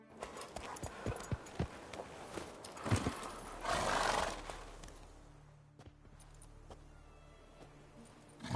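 Hooves clip-clop on the ground as Roach, a horse in a video game, snorts and lets out a loud neigh midway, followed by quieter shuffling steps and low ambient rumble.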